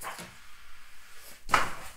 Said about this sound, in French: J'ai tous mes petits papiers qui viennent de tomber.